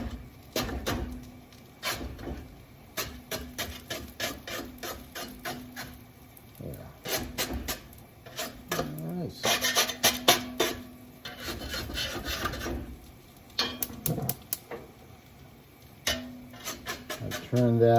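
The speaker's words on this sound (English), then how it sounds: "We'll use a little spatula here. Just kind of push that down." A small spatula scrapes and presses ramen egg foo young down in a hot pan, making repeated rough rasping strokes with bursts of scraping, close and fairly loud, against a low cooking hiss.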